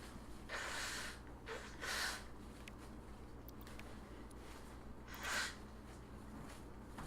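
A person sniffles through a stuffy nose, a few short sharp inhaled snorts spaced apart, close and fairly quiet over a steady low hum.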